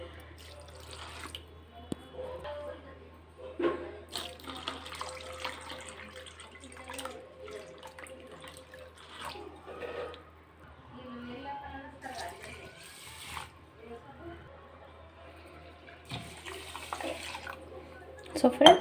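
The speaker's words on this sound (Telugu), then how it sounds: "సో మనం వాటర్ కొంచెం ఎక్కువనే పోసుకోవాలి మంచిగా సోక్ అవ్వడానికి" Water is poured over rice and lentils in a container for soaking, coming in intermittent splashy trickles and drips between stretches of quiet talk.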